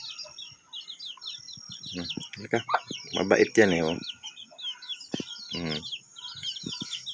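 Chickens cluck and a rooster calls among other birds on a backyard farm where hens are raising chicks, the bird sounds rising and falling in short bursts while someone speaks briefly nearby.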